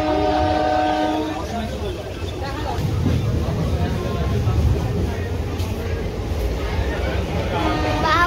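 A Digha-bound local train runs along with a loud rumbling roar and rattling carriages, a horn sounding near the start and again at the end, and voices faintly audible underneath.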